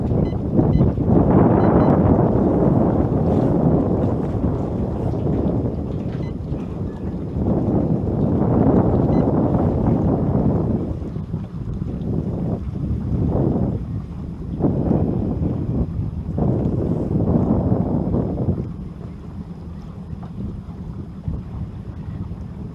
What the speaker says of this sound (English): Windy day, very windy day out there